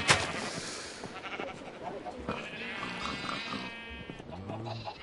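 Minecraft sheep bleat in a farm pen in the video game, a few nasal calls that rise over steady game background noise without anyone talking over them.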